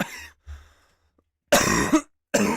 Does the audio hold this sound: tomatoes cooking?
no